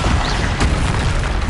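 A Bombarda explosion spell goes off in Hogwarts Legacy, a loud, dense blast with a broad rumbling low end and crackling debris, filling the whole short moment.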